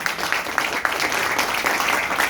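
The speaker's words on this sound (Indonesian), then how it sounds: "Tepuk tangan." Audience clapping fills an office gathering, a steady wash of applause running throughout at moderate loudness with no clear speech over it.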